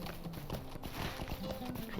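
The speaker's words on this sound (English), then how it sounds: "I'm going to take a horse to Hobbiton" Horse hooves clip-clopping in a steady, rhythmic trot while riding to Hobbiton in the online game Lord of the Rings Online, moderately close and fairly quiet, with faint game sounds behind.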